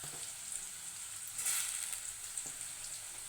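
Onion and tomato fry in hot oil in a pan for egg burji, with a steady close sizzling hiss that swells briefly as more goes in.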